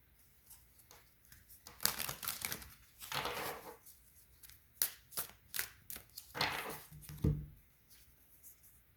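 Tarot cards are drawn and handled from a deck: a series of crisp papery slaps, shuffles and snaps, some louder and sharper, scattered irregularly with quiet gaps, close and without talk.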